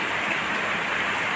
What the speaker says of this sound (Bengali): দারুণ বৃষ্টি